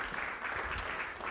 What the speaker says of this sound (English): Let's give them a round of applause as they head out